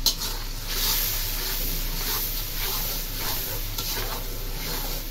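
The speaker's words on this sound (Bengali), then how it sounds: "অনেক সময় নিয়ে মশলাটাকে কষাবো" Spice masala of turmeric, chili and garam masala being sautéed in a pan, giving a steady low sizzle with soft scraping stirs throughout, moderately close and without any talking.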